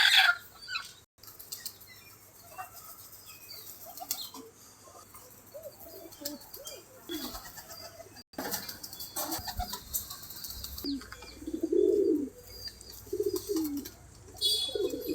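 A male pigeon sits brooding eggs in a new nesting cage, giving soft, low coos and a few clucking calls, near and fairly quiet, with brief scuffles and handling noises between calls.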